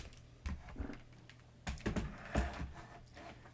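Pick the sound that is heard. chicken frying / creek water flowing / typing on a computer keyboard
typing on a computer keyboard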